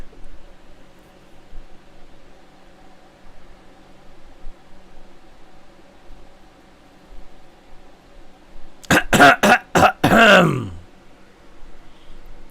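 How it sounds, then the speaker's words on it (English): A man coughing in a rapid run of about five harsh bursts, loud and close, after a long stretch of quiet room noise. "Notice how many coughs I did? Count it."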